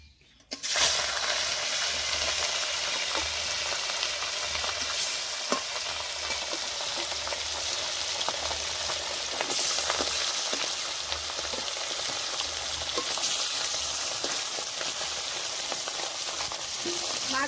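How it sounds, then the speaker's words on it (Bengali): Pieces of rohu fish frying in oil, a loud continuous close sizzle with bubbling crackle and light scraping from turning the pieces, steady throughout without talk. "মাছ আছে ভেজে নেবো"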